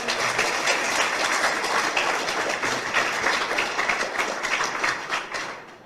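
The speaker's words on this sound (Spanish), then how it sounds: "Dale una ofrenda de aplauso al Señor." A church congregation applauds the Lord in a dense, steady wash of clapping that holds for several seconds before easing off at the end.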